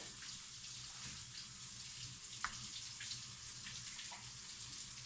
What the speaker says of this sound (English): BJ's having to wash his hands back there, so just ignore the water